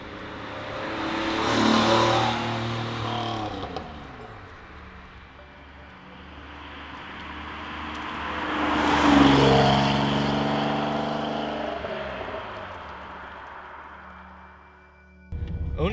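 A Pontiac Fiero drives past, its engine revving up loudly twice in sweeping rising pitches, then fading away before another surge begins at the end.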